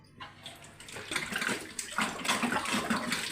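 Hot water runs steadily from a kitchen tap while vegetables are washed for stuffed mahshi, a close, continuous splashing stream that swells after a brief quieter start.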